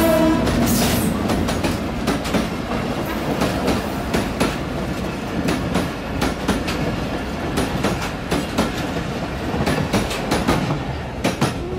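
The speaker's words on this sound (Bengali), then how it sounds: "এখন ট্রেন ছেড়ে দিবে।" Dhalarchar Express train pulling out of Rajshahi station, with a steady loud rumble and rhythmic wheel clatter from close on board, and no talk.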